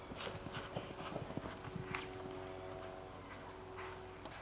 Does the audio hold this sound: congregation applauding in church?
no